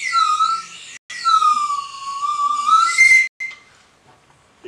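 A bamboo whistle toy from the kampung gives a shrill, wavering tone in two long blows with a brief gap, loud and close, ending in a short fading toot.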